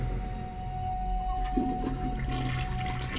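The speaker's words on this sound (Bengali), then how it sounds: "মুখোমুখি দুটো টয়লেটের একটিতে ফ্লাশ টানার আওয়াজ হয়।" A train toilet flushes with a rushing gush of water over a steady low hum, swelling partway through and continuing to the end.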